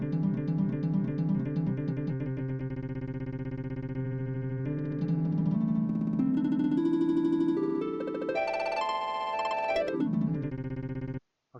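Layered multi-voice sampler instrument playing a looped sample, a dense steady drone of stacked tones with a rhythmic pulsing texture, shifting pitch and rising into a brighter swell near the end before cutting off abruptly; no voices.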